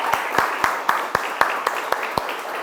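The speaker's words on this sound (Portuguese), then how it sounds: "para começar uma salva de palmas para os dois" Audience applause greeting a guitar duo at a free music workshop concert, with sharp claps in a steady rhythm standing out over a steady wash of crowd clapping.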